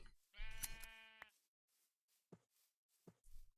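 A sheep in the Minecraft video game gives one clear, loud bleat, followed by a few faint, short clicks and bumps.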